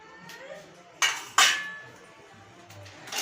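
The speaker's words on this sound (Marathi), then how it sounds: "कढाई ठेवले मी गॅसवर तेल ठेवले तापायला" A metal kadhai set down on a gas stove gives two sharp metallic clanks in quick succession, followed by quieter rattles in a calm kitchen.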